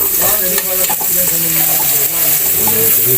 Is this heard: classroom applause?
no